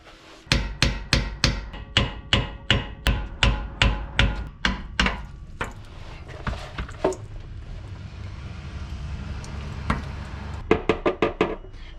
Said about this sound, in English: get a flathead screwdriver and a hammer to just separate the diff cover